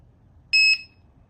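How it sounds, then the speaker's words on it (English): An MTen3 electric unicycle gives a single short, clear electronic beep as it powers on, a bright tone lasting about a quarter second with a brief stutter, heard alone against a quiet background. "There was a beep."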